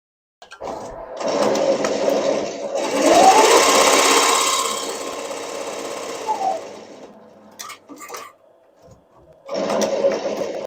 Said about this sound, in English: We are now ready to embroider.